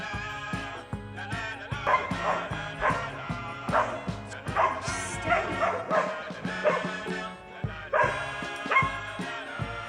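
A dog barks and yips in a rapid series of close, loud calls that keep going throughout, with surf and other dogs around it.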